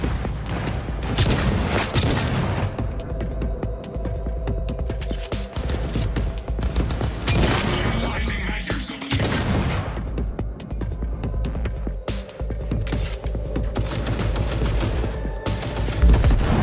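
Sustained gunfire rattles through a firefight in Cyberpunk 2077: Phantom Liberty, with dense bursts of rapid shots, booming impacts and a brief lull midway before the shooting resumes loud and close.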